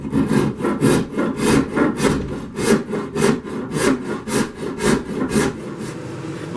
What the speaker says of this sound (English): now we're going to come in with our rasp. We're just going to work our wood down.